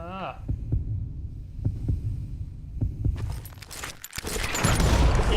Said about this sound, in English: When you hear heartbeat, you draw gun first